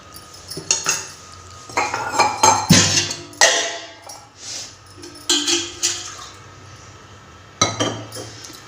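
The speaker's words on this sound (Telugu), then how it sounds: "అట్లనే ఇప్పుడు దీంట్లో కొన్ని వాటర్ పోసుకుంటున్నానండి." Water is poured into a cooking pot of tamarind and dal for pappucharu, splashing in bursts with clinks of the pot and utensils nearby, loud and close.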